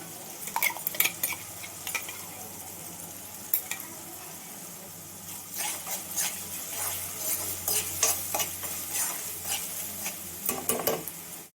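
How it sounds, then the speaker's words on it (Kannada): A ground masala of coconut, tomato, ginger, garlic and cashew fries in a pan with a soft, continuous sizzle. A spoon clinks and scrapes against the metal in short bursts, close by, with no talking. "ನೋಡಿ, ರುಬ್ಬಿರೋ ಮಸಾಲೆ ಹಾಕ್ತಾಯಿದ್ದೀನಿ."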